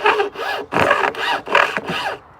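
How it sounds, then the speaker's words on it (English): A hand saw rasps through wood in five steady back-and-forth strokes, close and loud, then stops. "Love that saw sound"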